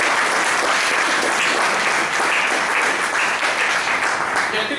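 A room full of people applauding, dense and steady clapping that stays loud throughout.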